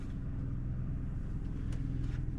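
A generator being exercised during winterization prep keeps up a steady low engine hum, with a slight lift in intensity late on and no voices over it.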